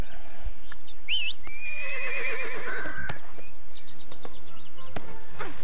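A horse in a fantasy online game neighs loudly with a long wavering whinny, followed by hoof clops and scattered game effects, close and clear with no talk.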